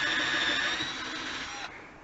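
A power drill bores a pilot hole through a thick piece of deck wood during a deck repair, a steady high whine for nearly two seconds that drops off sharply as the bit stops, with no talk.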